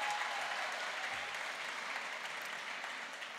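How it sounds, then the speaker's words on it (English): Steady, fairly dense applause from an audience at a gala dinner fills the whole stretch without pause and fades slightly toward the end, with no voices standing out. "Let's give Marcos Crespo a big round of applause."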